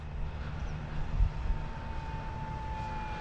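A Super Tucano aircraft flies steadily overhead, making a continuous, even engine drone at moderate distance that neither rises nor fades.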